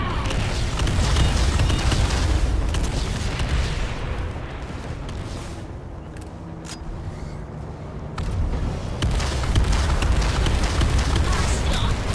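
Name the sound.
frag grenade explosion in a video game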